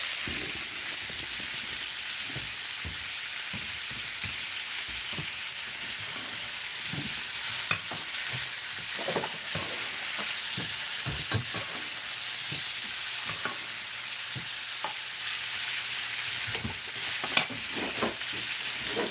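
A steak sears and sizzles in a hot pan with a steady crackling hiss, while butter is spooned over it, adding frequent sharp spoon scrapes and pops throughout.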